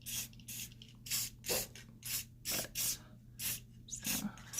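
Light bursts of spray mist onto a resin mould, about nine short hissing puffs in a steady rhythm, close and fairly quiet over a low background hum.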